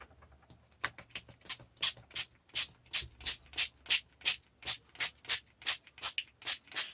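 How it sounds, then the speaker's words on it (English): A spray bottle of homemade glitter mist pumped repeatedly, giving a steady run of short hissing sprays, about a dozen in quick rhythm, close and clear. "I don't usually spray it on this heavy, but I thought I'd better spray it on heavier"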